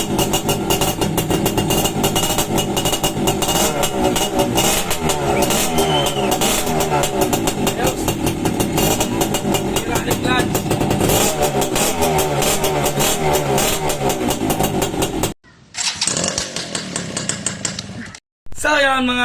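A Suzuki X4 motorcycle engine runs loud and steady, revving hard for about fifteen seconds during a clutch test, then cuts out briefly before restarting. A voice is heard over the engine noise.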